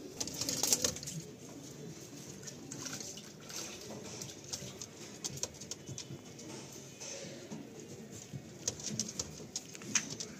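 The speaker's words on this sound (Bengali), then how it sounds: "আন্ধ্রা পায়রা" Andhra pigeons coo in a soft, low murmur beneath scattered pattering and fluttering noises, faint and fairly distant, with occasional brief louder taps.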